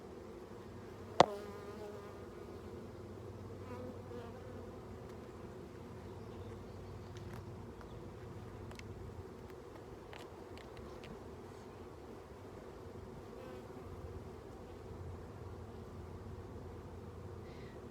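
Honey bees hum steadily around their hive during a colony inspection, a dense, continuous insect buzz with many wings overlapping, with one brief sharp click near the start and no talking.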